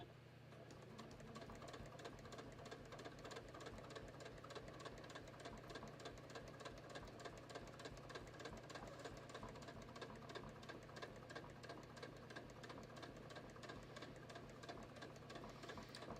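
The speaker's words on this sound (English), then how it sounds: "I'm just going to stitch as close as I can to the snap all the way around here" A sewing machine stitches steadily in a circle around a snap on a simple fidget mat, its rapid even needle clatter running continuously at a quiet, close level.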